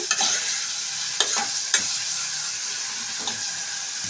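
A spoon stirring tomatoes with salt and turmeric in a pan, soft scraping over a constant frying sizzle, with a few sharp clicks of utensil against the pan, close and alone.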